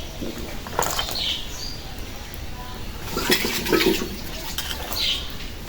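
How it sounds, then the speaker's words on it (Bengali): A pumpkin is washed by hand in water, with irregular splashes and sloshing, occasional light knocks against a container, and low household background noise. "মিষ্টি কুমড়াটা ধুয়ে সুন্দর করে রাখছি"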